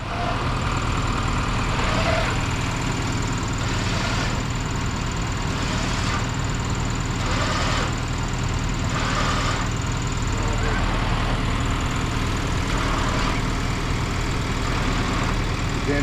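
A truck engine idles and rumbles steadily throughout, with faint rhythmic bursts of hiss or scraping over the low drone.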